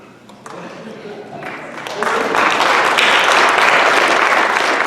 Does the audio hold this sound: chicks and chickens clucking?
no